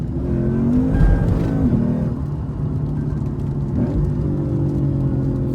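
A Lexus IS F with a 5.0L V8 engine drives on a wet road, its engine giving a steady low drone with a brief swell in revs near the start, heard alone and close from inside the car.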